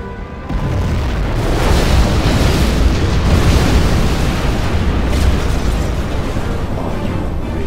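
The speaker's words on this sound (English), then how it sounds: "We have launched our nuclear missile." A nuclear missile detonates in the real-time strategy game Command & Conquer Generals Zero Hour, producing a loud, sustained, rumbling explosion that roars on for several seconds with no voices over it.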